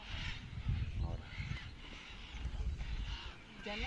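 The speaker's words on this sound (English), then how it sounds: "By the time we arrived, the trees above the clay bank were full of birds." A busy chorus of birds, likely macaws, calling from trees above a clay bank in Tambopata National Reserve, Peru, harsh caws and squawks overlapping continuously, with a steady rustling background.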